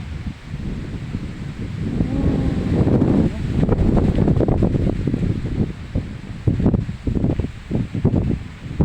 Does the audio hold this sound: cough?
no